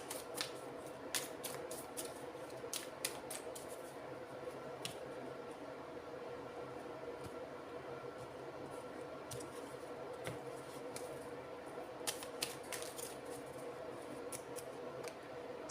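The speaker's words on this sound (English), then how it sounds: "And I will pull a song card just to tie this all up." Cards being shuffled and drawn from an oracle song card deck, a run of soft papery riffles and sharp flicks close by over a steady faint hiss, with no talking.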